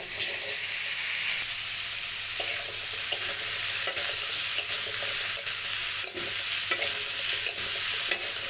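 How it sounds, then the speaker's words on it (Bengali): Cut bottle gourd hisses and sizzles in hot oil in a pan after potatoes were fried. Steady frying noise is broken by occasional stirring scrapes, with no talk. "ওই তেলের মধ্যে দিয়ে দিচ্ছি কেটে রাখা লাউ"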